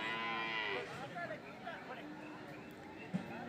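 Buffalo calves moo loudly and repeatedly at a cattle market, with a crowd of voices talking around them.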